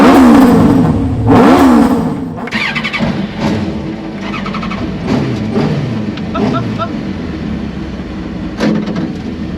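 A Skoda Felicia pickup fitted with twin GSXR motorbike engines starts and revs, with sharp throttle blips and engine roar close by, then a rumbling idle with further bursts while people talk nearby.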